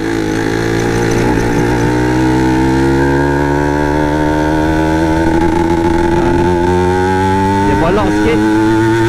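A Yamaha TZM motorcycle engine runs loudly up close, a steady mid-pitched idle with rising and falling revs and a sharp blip near the end, while a voice talks over it.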